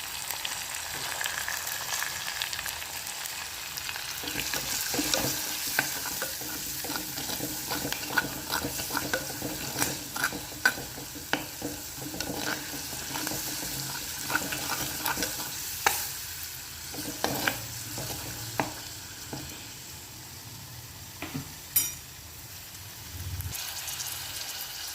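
Chili, turmeric and pepper powder being stirred into a sizzling pan for a Kerala fish curry, with steady frying hiss and repeated scraping spoon knocks throughout, close and moderately loud.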